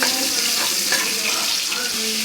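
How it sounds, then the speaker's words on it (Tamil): Onions and tomatoes sautéing in a pan give a steady, close sizzle with crackling bursts and a faint stirring scrape, holding an even loudness for the whole stretch with no talking. "வெங்காயம் தக்காளி நல்லா வதங்கிட்டு இருக்குது"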